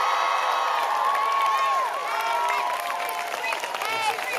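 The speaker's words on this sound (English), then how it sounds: "Let's give them a huge round of applause." At a school closing convocation, the audience breaks into a round of applause mixed with cheering and excited whoops and shouts, a loud crowd roar that stays lively before easing slightly.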